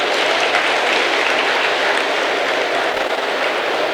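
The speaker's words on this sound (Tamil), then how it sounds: "அனைவரும் சேர்ந்து ஒரு அரங்கம் நிறைந்த கைத்தட்டு ஒன்றை" A hall full of audience applause for former students at a school event, dense sustained clapping that stays loud and even from start to finish.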